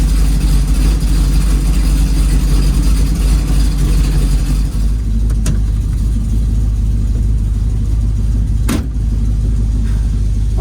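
A 1936 Chevy car engine idles as it warms up, holding a loud, steady, close low rumble for the whole stretch, with a couple of faint clicks partway through.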